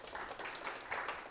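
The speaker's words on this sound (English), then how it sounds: "So give them a round of applause." Audience at a church vision night applauding, a steady dense patter of many hands throughout, moderately distant and fairly soft.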